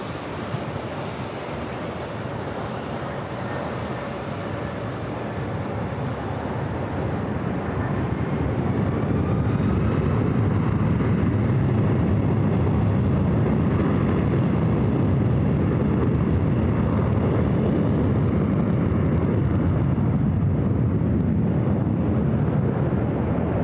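An airliner takes off from runway 24 left at LAX, its jet roar swelling from a moderate rush to a loud, sustained, broadband thunder that holds steady with a windy edge, no voices over it.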